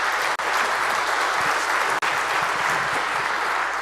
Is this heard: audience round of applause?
yes